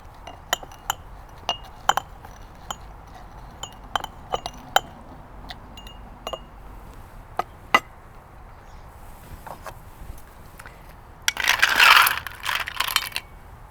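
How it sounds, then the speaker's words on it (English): Lime wedges and sugar are muddled in a glass for a mojito: a run of sharp, separate clinks and taps against the glass, followed by a louder burst of grinding and clattering near the end, with no talking. "Crush again."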